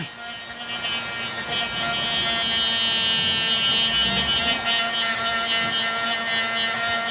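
A Dremel rotary tool grinding the tip off a toothbrush lockpick, a loud high-pitched steady whine with slight dips in tone as it bites the plastic, close up and alone.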